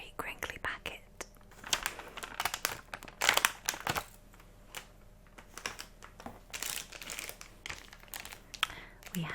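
A crinkly plastic packet of limited edition Oreos is handled close up, with bursts of crackling and rustling between quieter moments, under soft whispered talk.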